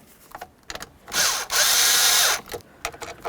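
A power drill driving the mounting screws of a steering wheel while a cruise control switch is replaced on a 2007-2012 Dodge Caliber: two loud, sustained whirring bursts close by, separated by a brief pause, with small clicks and handling noises around them.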